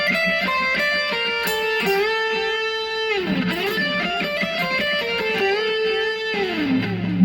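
A distorted electric guitar plays a fast lead lick with string bends and slides, notes swooping up and down, loud and upfront with no talking.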